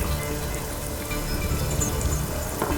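Heavy rain pours steadily as a dense, even hiss with no break, loud and close throughout the short stretch.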